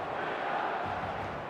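A steady, dense roar of a stadium crowd chants and murmurs throughout in the eFootball video game, a continuous wash of many distant voices with no breaks.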